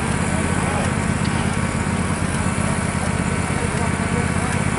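A remote control pulling truck's small high-revving engine buzzes loud and continuous at a steady pitch, with people talking faintly underneath.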